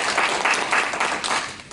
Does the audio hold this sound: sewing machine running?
no